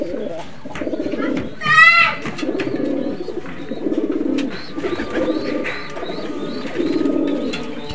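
Several pigeons, including Benaras and old Khulna chot birds, coo in repeated low throaty bursts nearby, with a sharp higher chirp near the start and light background clatter.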